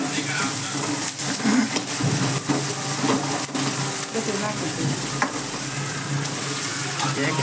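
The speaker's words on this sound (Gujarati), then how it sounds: "બ્રાઉન થાય ત્યાં લગી આપણે ડુંગળીને સડવા દેવાની છે" Onions fry in a pan with chillies added, giving a steady close sizzle with stirring scrapes throughout, while a voice talks over it.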